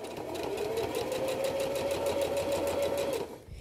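A sewing machine stitches the fly and facing of a Simplicity D0838 garment, running in one steady, close whirring burst with a fast even needle rhythm for about three seconds before stopping abruptly.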